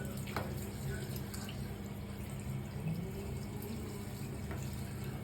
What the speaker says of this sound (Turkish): bence suyumuzu kapatalım artık yeter